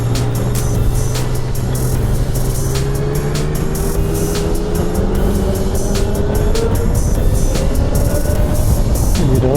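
A 2020 Zero SR F electric motorcycle pulls away with a steadily rising, smooth electric whine, heard close but partly buried under a constant loud rush of wind and helmet noise.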